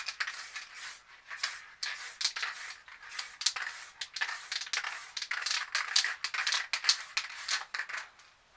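Spray paint can misting light blue onto a recycled canvas, heard as a run of short, breathy hissing bursts that come in quick succession at close range, with no talking.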